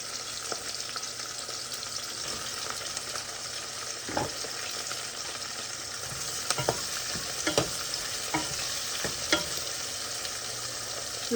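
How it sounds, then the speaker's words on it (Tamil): Onions frying in a pan with mustard seeds and cumin, a constant crackling sizzle punctuated by several sharp spoon scrapes and knocks as they are stirred, with no voices. "வெங்காயம் பொரியட்டும்."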